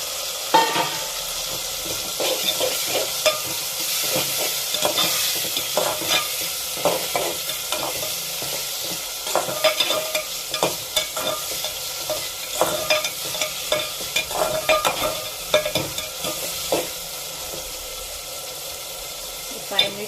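Tomatoes and onions sauté in a pan while a spoon keeps stirring them, the steady sizzle broken by frequent scraping clicks of utensil against metal, close and fairly loud throughout.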